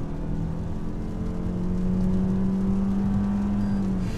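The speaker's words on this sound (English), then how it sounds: "get myself out onto this section of highway and floor it under acceleration to get myself up to highway speed" A 2018 Toyota C-HR accelerates hard onto a highway, its engine droning loudly from inside the cabin with a steady rising tone under heavy road and wind noise, no talk.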